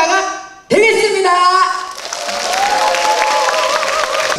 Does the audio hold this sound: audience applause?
yes